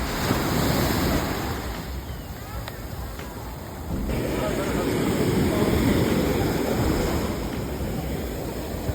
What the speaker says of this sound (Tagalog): Yung alon niya. Malaki.